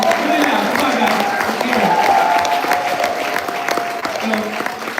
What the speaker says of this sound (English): please a round of applause for the panel